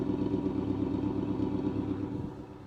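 An International Harvester pickup's engine idles steadily nearby, a low, even rumble with a faint mechanical clatter that holds for a few seconds and dips slightly at the end.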